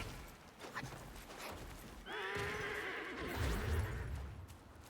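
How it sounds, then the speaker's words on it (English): A loud horse-like whinny from a rat-like video game creature in Black Myth: Wukong rises and wavers for a couple of seconds, followed by low snorting over a steady background rumble. "He sounds like a horse."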